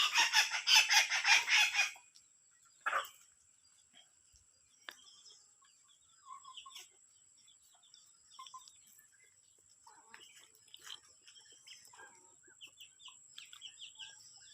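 Chickens settling to roost for the night: after a short loud burst of noise, soft scattered clucks and murmurs come from birds nearby, faint and intermittent over quiet evening air with a steady high insect tone.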